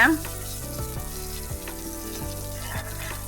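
Onions and chopped chillies sauté in a pan for chicken gravy, giving a continuous sizzle with a low steady hum underneath and occasional soft stirring taps.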